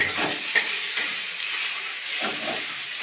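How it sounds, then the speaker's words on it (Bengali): Onion and green chillies frying in hot oil give a steady sizzling hiss, with a few soft stirring scrapes and no voices. "পেঁয়াজ দিয়ে দিলাম আর তিন চারটে তিনটে কাঁচা লঙ্কা দিলাম"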